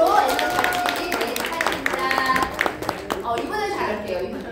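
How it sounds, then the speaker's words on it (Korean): A round of applause at a community gathering, claps rising in steady bursts under a lively, cheering room where people talk over the clapping. "큰 박수로 에너지 같이."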